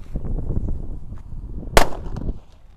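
A Gorilla firecracker goes off in a single sharp, loud bang cutting through outdoor background rumble and murmur, followed by a brief fading crackle.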